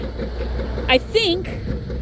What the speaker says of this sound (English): it's probably the water pump